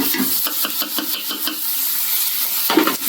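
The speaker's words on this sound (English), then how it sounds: "Again, we're sauteing, we're not frying." Vegetables sizzle gently in a pan while a utensil stirs and scrapes in a quick, repeated rhythm, close by.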